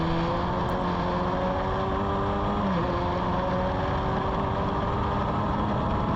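Formula Ford racing car driven up to speed on a track, its engine a steady loud drone with rising and falling tones from gear and rev changes, no talk.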